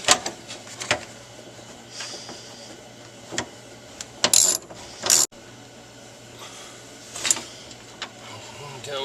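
A ratchet wrench drives a seat belt bolt into a car under construction from the bare frame, giving short clicking mechanical bursts separated by pauses, close and fairly loud over a low steady hum.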